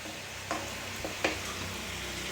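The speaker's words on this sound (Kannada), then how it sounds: "ಎಣ್ಣೆಲಿ ಫ್ರೈ ಆಗಬೇಕು, ಅದು ಎಣ್ಣೆಲೇ ಫ್ರೈ ಆಗಬೇಕು" Spice paste frying in oil in a pan for spicy red chicken, a steady soft sizzle with a few faint stirring scrapes, close and alone.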